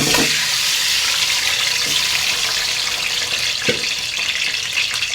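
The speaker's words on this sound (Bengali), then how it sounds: "সিদ্ধ করা ডিমগুলি আমি ভেজে নিলাম" Boiled eggs fry in hot oil in a pan for an egg korma, giving a loud, continuous hiss and sizzle with a few brief pops and spatters.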